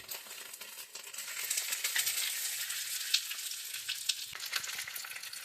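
Tilapia fries in a pan of hot oil, a steady crackling sizzle with occasional sharper pops, close and fairly quiet, with no talking.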